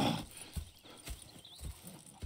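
Horse hooves clip-clop in a quiet, regular rhythm in the video game Red Dead Redemption 2, soft and somewhat distant, with a faint hiss in the background.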